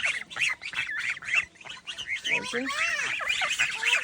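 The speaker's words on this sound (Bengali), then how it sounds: "দেখেন কতগুলো রাজহাঁস" A flock of geese honking and squawking nearby, calls overlapping in a busy, continuous chorus.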